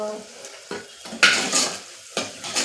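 Masala khichdi gets stirred in a metal pot, with a few short bursts of spoon scraping and clinking against the sides over a soft background sizzle, nearby and without speech.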